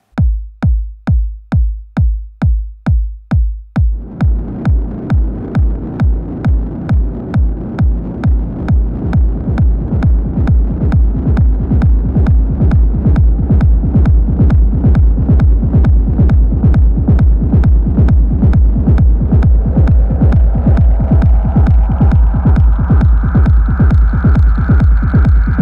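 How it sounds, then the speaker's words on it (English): Techno rumble from a modular synthesizer chain: a steady run of deep, regular throbbing pulses that starts sparse and dry, then swells into a dense, loud, sustained rumble with a rising hiss layered over the beat. "you can use the mixer to sculpt the rumble over the course of a track or performance"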